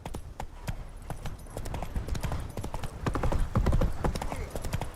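Roach the horse trots in the Witcher 3 game, hooves clip-clopping in a steady, close, fairly loud rhythm with faint background game sounds.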